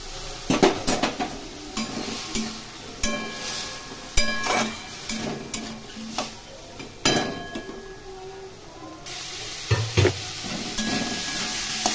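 Pointed gourd (kankrol) curry with a little sugar being stir-fried in a pan, a spatula scraping and clattering against the metal in irregular close strokes over a steady sizzle.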